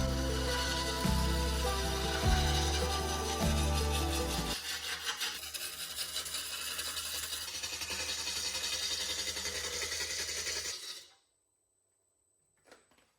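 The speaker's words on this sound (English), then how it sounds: "alternating between the roughing gouge and an Easy brand rougher tool, to my surprise, this actually went pretty well" Wood lathe spinning a workpiece while a roughing gouge and an Easy rougher tool cut it, a loud continuous rumble and scraping hiss that runs for about eleven seconds, then cuts off to near silence.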